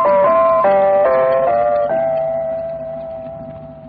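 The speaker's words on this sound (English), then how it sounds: "That was the RIAS identification tone, the sound that tells all RIAS listeners, both in East and West Germany, that they are tuned to the channel" RIAS, the American-sponsored German-language broadcasting station in Berlin, plays its identification tone: a short sequence of clear chime-like notes stepping in pitch, the last one sustained and slowly fading, loud and alone.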